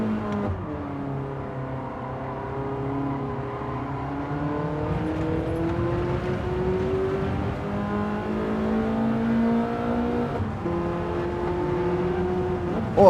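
Race car engines from a BMW and a Porsche in Gran Turismo 7 drone steadily, their pitch slowly climbing and dipping as the cars accelerate, a continuous mid-level roar with no voices.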